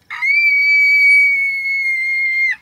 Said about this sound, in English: What are you screaming about?